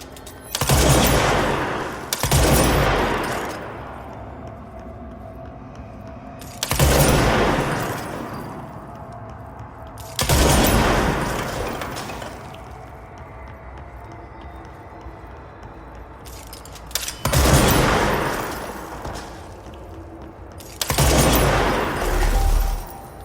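Heavy bursts of gunfire in the video game Control, coming in several loud sustained volleys, each a few seconds long and separated by quieter gaps.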